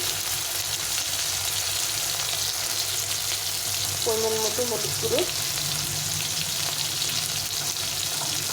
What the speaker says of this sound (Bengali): মশলাগুলো একটু ভালো করে ভেজে নিতে হবে।